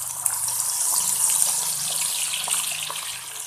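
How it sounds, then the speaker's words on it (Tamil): Masala-coated oyster meat fries in hot oil in a kadai, giving a steady, bright sizzling hiss up close with no talk over it. "எண்ணெய் நல்லா சூடானதும் நாம் மசாலா பிரட்டி வச்சுருக்கிற அந்த சிப்பி சதையை இதில் போட்டுடலாம்"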